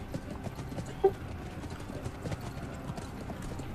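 Horses gallop in the video game Blood of Steel, a dense run of hoof clip-clops drumming continuously at moderate volume amid battle noise, with one brief sharp knock early on.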